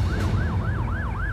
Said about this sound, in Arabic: سيارة الإسعاف توصل في غضون 4 دقائق من استلام البلاغ